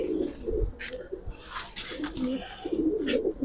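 Pigeons of a pair offered for sale, Giribaz silver pankhi, coo in low rolling phrases close by, the calls repeating through a noisy market-like setting with faint voices and scattered sharper chirps.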